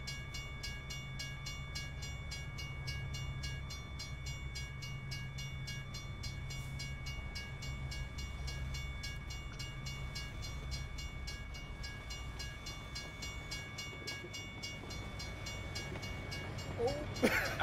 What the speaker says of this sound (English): Oh, that train's not stopping.